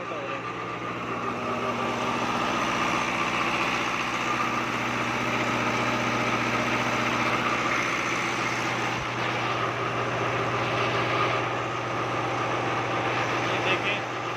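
A Fiat 640 tractor engine runs steadily while driving a Denmo electricity generator, a constant loud droning hum with a low, even throb that holds for the whole stretch.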